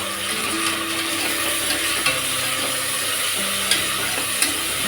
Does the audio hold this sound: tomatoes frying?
yes